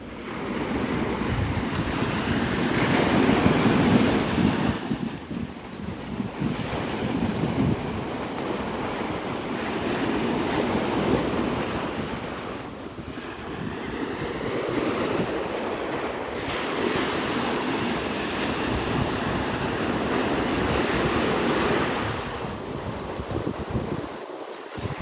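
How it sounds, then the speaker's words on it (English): Ocean waves wash in steadily on Pensacola Beach, Florida, beside the pier, a continuous surf roar with rising and falling swells and gusty wind buffeting the microphone; no talking. "This is Pensacola Beach, Florida."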